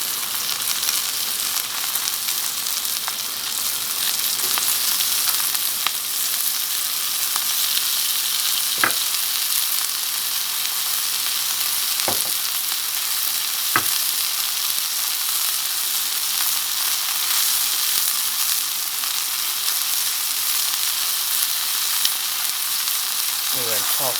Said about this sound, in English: At the 3-minute mark, we're going to go ahead and start adding some onions to the pan.